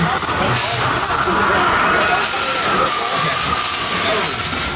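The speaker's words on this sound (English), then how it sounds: "There's a train on your left, the train!" A loud, steady hiss and rush fills the scene as a train approaches on the Earthquake ride at Universal Studios Hollywood, with a faint whistle-like tone running underneath.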